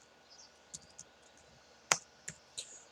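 Someone types a customer ID number on a computer keyboard: a few sparse, faint key clicks, separate and irregular, over a quiet room hum.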